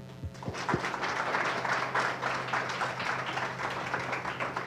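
An audience at a Boston women's entrepreneurship panel applauds a speaker being introduced: steady, dense clapping from a room full of people, sustained throughout with a brief voice at the start.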